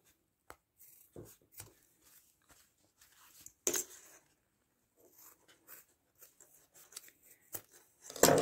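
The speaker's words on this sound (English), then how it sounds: "The scissors will go right through it." Quiet, sharp snips of scissors cutting through vinyl corners, a dozen or so irregular clips close up in an otherwise silent room.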